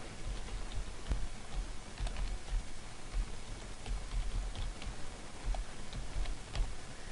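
Steady, close tapping of keys on a computer keyboard while a website address is typed, a continuous patter of soft clicks with no talking.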